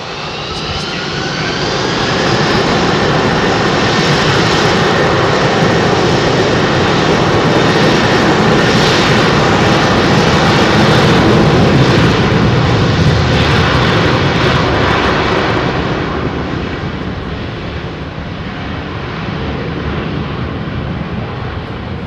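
Airliner engines roaring loud and steady during a bumpy climb-out from London Heathrow amid smoky haze, a continuous close-up drone that eases slightly toward the end.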